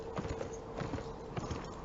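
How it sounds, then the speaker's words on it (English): Horse hooves clip-clopping in the video game Beyond Two Souls, a soft, fairly faint run of evenly spaced hoof strikes at a walking pace, with no talking. "I'm riding a horse!"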